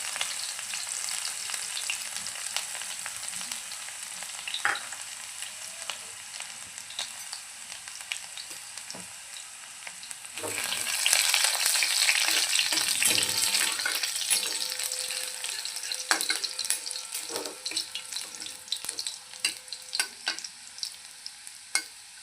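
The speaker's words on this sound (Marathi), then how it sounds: "त्यामध्ये आता आपण ठेचलेला लसूण टाकूया" Crushed garlic fries in hot oil in a pan for a mixed dal sambar, a continuous close sizzle that grows louder and busier midway, broken by occasional stirring clatters of the spoon, with no talking.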